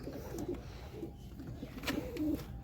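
Pigeons coo steadily inside a pigeon loft, several overlapping low, throaty calls repeating in soft rhythmic bursts, close by and fairly quiet with no talking.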